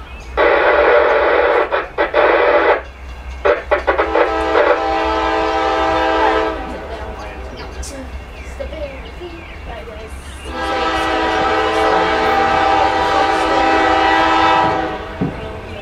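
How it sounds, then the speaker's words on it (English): A CSX Q127 freight train rolls past Folkston on track 1, sounding its loud horn in long, sustained blasts over the steady rumble of the passing cars, close and dominant throughout. "CSX Q127 coming by Folkston on track 1"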